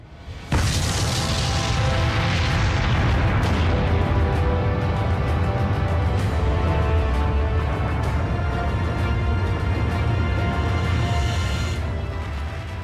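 Atomic bomb test detonation: a sudden massive boom erupts and rolls into a sustained, loud, low rumbling roar that persists for over twelve seconds without fading much.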